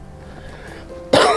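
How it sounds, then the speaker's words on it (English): A single loud cough bursts out near the end, close and abrupt, from a man outdoors at Lucky Peak who is still getting over a cold, after a stretch of quiet background. "Still got a little bit of that cold, so a little cough hanging on"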